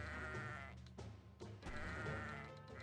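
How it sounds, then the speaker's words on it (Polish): Sheep bleating in the tower-defense video game Kingdom Rush as they are clicked, several layered game bleats with a wavering, nasal tone repeating over almost three seconds, loud and close with no talking. "Klikajmy sobie owce."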